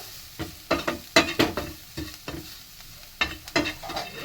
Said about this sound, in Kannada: ನೆಕ್ಸ್ಟ್ಗೆ ಸ್ವಲ್ಪ ಟರ್ಮರಿಕ್ ಅಂದರೆ ಹಳದಿ ಪೌಡರ್, ಅರಿಶಿನದ ಪುಡಿ, ಆದಮೇಲೆ ಸ್ವಲ್ಪ ಉಪ್ಪು ಹಾಕಿ ಇದನ್ನು ಸ್ವಲ್ಪ ರೋಸ್ಟ್ ಮಾಡ್ಕೋಬೇಕು